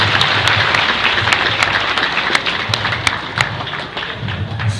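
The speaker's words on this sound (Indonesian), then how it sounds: "Tepuk tangan dulu dong buat sekolah kita." A crowd claps for their school during an Islamic sermon, loud, close applause with distinct sharp hand claps and some thumps standing out above the steady patter.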